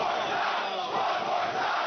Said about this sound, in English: The crowd looking for one more.